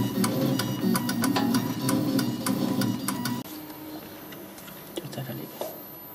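A pneumatic marking machine's needle hammers in a rapid, steady buzzing stream, loud and close, then drops to a softer, thinner chatter partway through with scattered ticks.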